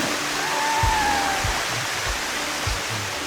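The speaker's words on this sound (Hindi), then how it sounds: "ये पहला झरना है" A small waterfall near an airport and capital city, a steady broadband rush of falling water filling the scene, with a few faint low thumps underneath.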